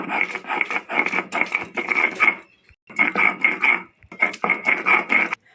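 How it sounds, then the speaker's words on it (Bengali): Boiled banana flower and potato being ground into a paste by hand, a close, steady rasping and rubbing in rhythmic strokes, running in three bursts separated by short pauses. "মোচাগুলো সব এরকমভাবে আমরা বেটে নেবো"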